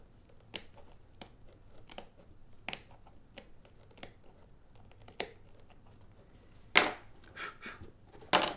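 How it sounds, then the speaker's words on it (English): Small sewing snips cut the hemp material from a Nike SB Dunk Low sneaker in sharp, separate snips spaced irregularly, close and fairly quiet, with a louder cluster of cuts near the end. "Little sewing snips."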